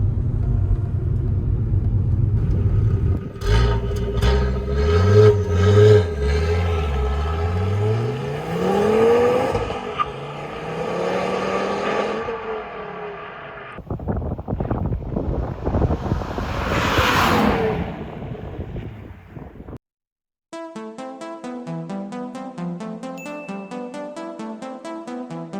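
A Volvo V70 T5 AWD drives by with a deep engine rumble and rising revs, shifting pitch as it accelerates, then a whooshing pass, with music at the end.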